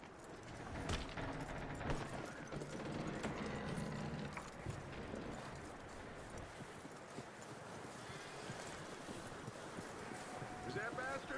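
Horse hooves clip-clop steadily through Red Dead Redemption 2 gameplay, with a brief whinny near the start, all under a dense mix of game ambience and ongoing character speech.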